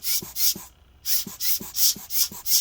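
A wobbling fan in a Lenovo IdeaPad Flex-15IWL laptop scrapes in a steady rhythmic rasp, pulsing about three times a second with a brief pause, close and moderately loud.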